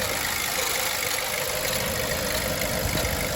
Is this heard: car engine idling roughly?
yes